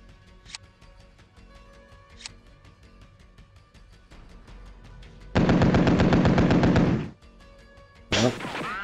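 Loud sustained burst of 35mm cannon fire in the WinSPMBT Cold War mod war game, a dense rapid stream of shots lasting well over a second, followed by a sharp loud blast, with faint clicks and quiet game ambience before it.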